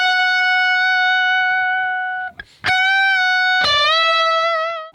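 A sustained, harmonically rich electric guitar tone through a distorted effects chain, with two notes ringing out, a brief break, and a bent, wavering note.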